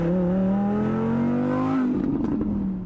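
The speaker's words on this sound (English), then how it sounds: "though the Audi V10 engine isn't turbocharged, it puts out a serious 397 kilowatts of power. Music to the ears of car fanatics" A naturally aspirated Audi R8 V10 Spyder engine revs loud and close, a steady rising roar with a strong harmonic whine that breaks off into a rougher, crackling fall near the end.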